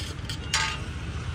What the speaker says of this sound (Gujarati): ત્યાં સુધી એનો ગોલ્ડન કલર પ્રોપર શેકાઈ ના જાય ત્યાં સુધી આપણે એને ધીમા તાપીથી શેકાવા દઈશું